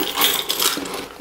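Keys jingle and clink metallically as they are put into a Louis Vuitton Alma BB handbag, in a short, close run of rattling.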